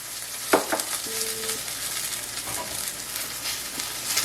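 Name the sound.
artichokes browning in a pan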